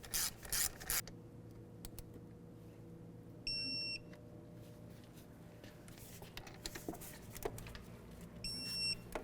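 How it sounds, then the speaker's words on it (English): Wrench work on the wheel bearing mounting bolts of a 2000-2005 Buick LeSabre, with a burst of ratcheting at the start, then scattered metallic clicks and two short electronic beeps, likely from a torque wrench. "now we're just going to bottom out both of these mounting bolts, and then we're going to torque each of these to 63 foot-pounds"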